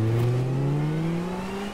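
A car in the racing game GRID Legends revving and driving, a steady engine whine rising gradually in pitch over a couple of seconds, loud and alone with no talk.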